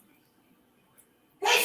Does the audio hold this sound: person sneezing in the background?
yes